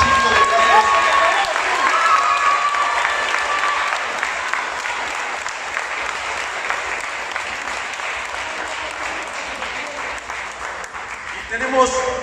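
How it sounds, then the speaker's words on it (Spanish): Sustained applause from an audience at a wrestling event, a dense steady clatter of clapping that holds for about twelve seconds with a faint crowd murmur, ending with a slight swell. "Entonces, Ray, el aplauso es para ti, hermano carnal"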